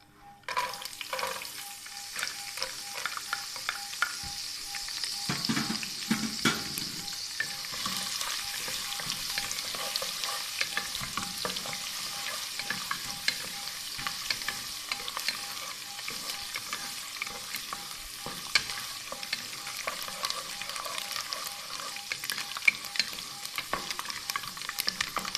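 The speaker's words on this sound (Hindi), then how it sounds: "इसके बाद हम फ्राई कर लेते हैं बादाम।" Almonds frying in a pan and being stirred while sheer khorma is prepared, a steady sizzle with scraping spoon strokes that runs without a break for about twenty-five seconds, close and with no voices.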